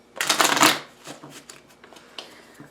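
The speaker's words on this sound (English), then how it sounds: "Do one more shuffle here." A tarot deck is riffled in one close, crisp burst of card shuffling, then a few soft taps and card flicks follow during a reading.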